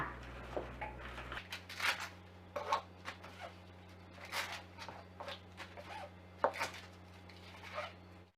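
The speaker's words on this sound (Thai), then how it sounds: "ส่วนใบเตยก็ล้างให้สะอาดแล้วก็หั่นเป็นท่อนสั้นๆ เช่นกันค่ะ" A knife chops washed pandan leaves into short pieces on a board, giving faint, irregular crisp cuts spaced through a quiet background with a low steady hum.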